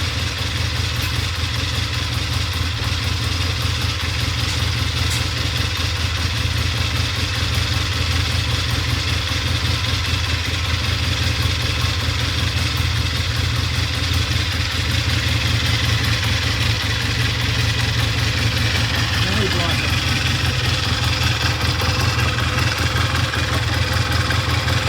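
A Triumph 350cc 3TA motorcycle engine idles steadily nearby in cold weather, a continuous loud mechanical thrum with light clatter throughout and no voices.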